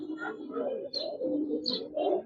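A Giribaz pigeon in a loft cooing, a few soft throaty low coos in a short rhythmic sequence, close and clear with no talk.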